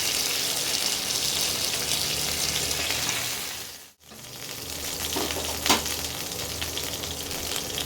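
Pomfret fish sizzles lightly in a little oil in a wok with a steady hiss, briefly cut off once and then resuming, with a small clink near the end.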